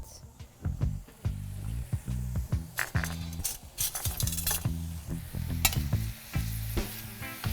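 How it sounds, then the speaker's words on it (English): Onions sizzling and frying in a pan, with frequent clinks and scrapes of a utensil stirring against the pan. "Trying to regulate my heat so we can get a little bit more sizzle on there."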